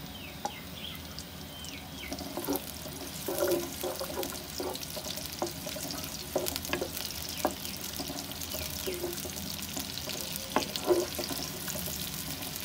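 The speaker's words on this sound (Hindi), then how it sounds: "प्याज को फ्राई करेंगे" Sliced onions fry in half a cup of hot oil in a pan, giving a quiet, steady sizzle with occasional soft clinks and stirring scrapes, close by and without voices.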